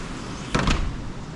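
Doors of a luxury villa in Goa being shut during heavy monsoon rain: a single short thud with a brief rattle, close by, over a steady hiss of rain.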